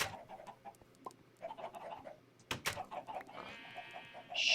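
Chickens cluck repeatedly in a video game in a steady, moderately loud stream, with short bird-like calls over a quiet background and a brighter squawk near the end.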